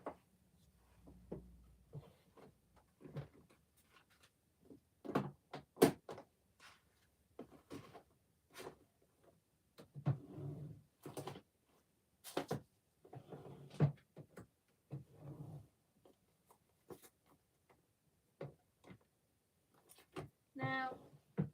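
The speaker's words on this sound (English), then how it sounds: "let me see what I can find in my embellishments drawer." Someone rummaging through a drawer of craft embellishments, making scattered small clicks, taps and rattles of plastic pieces and packets at irregular intervals, close and quiet, with occasional low talk.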